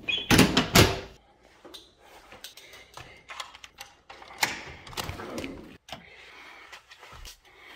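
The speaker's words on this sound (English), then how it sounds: "I'm gonna need you to open the door." A motorhome door is handled with sharp clunks, latch clicks and bumps in an irregular series, and a louder cluster of knocks comes at the start.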